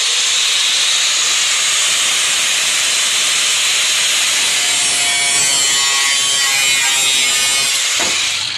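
Steady, loud cutting noise with a hissing, grinding texture, running close and continuously through a steel plate on a Jeep Wrangler during a lift install, with no talk over it.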